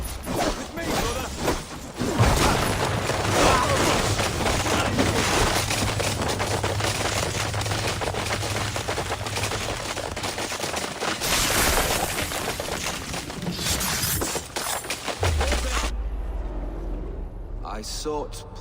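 Heavy gunfire and crashing impacts fill a battle in the Assassin's Creed Valhalla video game as a target is shot, a dense, loud barrage with voices shouting over it before it cuts out near the end.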